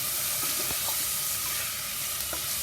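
Onions and whole spices with mustard and cumin seeds stir-fry in a pan, giving a steady close sizzle with a few soft scraping stirs, no voices.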